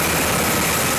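UH-60 Blackhawk helicopter with engines running and main rotor blades turning during medevac hot-load training, a loud, constant roar close by with no break.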